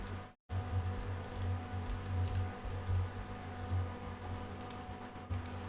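Rapid, light clicking of a computer keyboard as a folder name is typed, a steady run of keystrokes over a low hum, with a brief dropout near the start.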